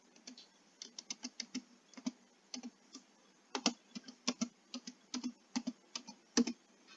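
Typing a cardholder's name on a computer keyboard, with irregular bursts of crisp key clicks, close and clear, pausing briefly between words, with no talking.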